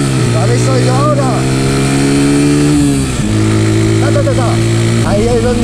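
A Chinese 125cc motorcycle engine revs hard and holds at its rev limiter, a loud, buzzing high-pitched drone that dips briefly and then climbs back, with someone talking over it.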